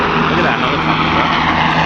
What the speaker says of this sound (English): Look at that helicopter, bro.